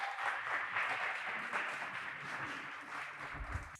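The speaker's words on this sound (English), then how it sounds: "Let's give these folks a round of applause." An audience gives a sustained round of applause at a Peacemaker Award ceremony for the International Day of Peace, with dense, steady clapping filling the room for about four seconds.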